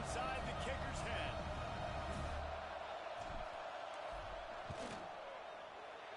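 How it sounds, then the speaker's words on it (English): Steady roar of a large football stadium crowd during a field goal attempt, loud and continuous with a broadband wash and shouts rising and easing, a commentator's voice faintly under it. "This crowd trying to do its part to get inside the kicker's head."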